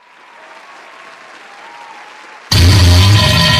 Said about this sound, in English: I'll add an applause sound effect.